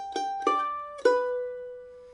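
Three plucked mandolin notes pick out the opening bar of the bluegrass tune Cripple Creek, each bright attack ringing with sustained overtones and the last note held and fading, played close and clear with no voice.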